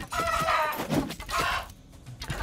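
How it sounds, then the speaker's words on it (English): Chickens cluck and squawk in the Undead Horde video game, a couple of close, loud bursts of fowl calls separated by a brief pause, with no talk over them. "What's up with the chickens?"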